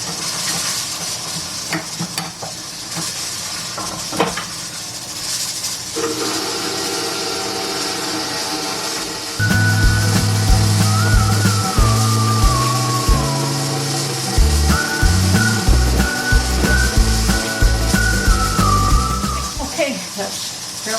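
An electric stand mixer working flour into bread dough, a loud steady motor whir with a rhythmic churning hum that grows heavier and lumpier partway through, with a voice speaking at the start.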